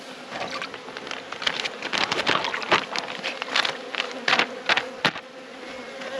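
A hive opened for its first inspection of the season gives off a dense, close, continuous honeybee buzz that swells and dips, with individual bees zipping past the microphone.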